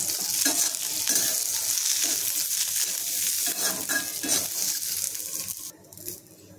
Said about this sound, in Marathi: लसूण आणि आलं हे आपल्याला भाजून घ्यायचे। त्याच्यामध्ये 2 मिरच्या टाकून घेते।